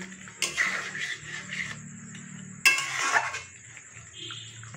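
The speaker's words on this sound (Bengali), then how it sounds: "চিকেনটা একটু কষাচ্ছি, দেখো কতটা তেল জল বেরিয়ে গেছে।" Chicken sautéed in a pan as it releases oil and water, stirred in two distinct bouts of spoon scraping and clanking against the pan, separated by a quieter pause.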